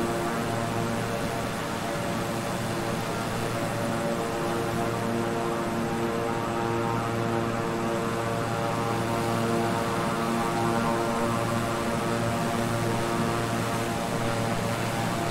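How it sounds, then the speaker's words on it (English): A simulated Beechcraft 350i twin-engine turboprop cruises at night in Microsoft Flight Simulator, its two engines producing a loud, steady, even drone with layered tonal hum that holds constant throughout, with no voices. "two engines sound like they're humming very nicely"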